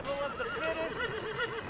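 A horse in Red Dead Redemption 2 neighing, a single wavering whinny that rises and falls for under two seconds, close and clear with faint background noise.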